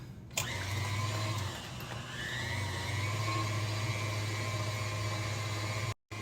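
An electric hand mixer blends cheesecake batter with heavy whipping cream, a steady motor whir running close and loud with a brief pause near the start before it resumes.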